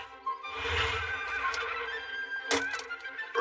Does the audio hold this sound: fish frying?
no